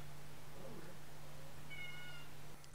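A cat meows at a door, a faint, distant meow or two over a low steady hum, with no talking.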